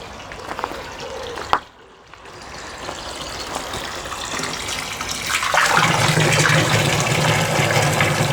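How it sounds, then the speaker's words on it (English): A 12V water pump drives a stream of water through a hose, starting with a click and brief pause, then a building rush of gushing flow with a steady pump hum underneath, loud and continuous. "And that ain't a bad stream of water"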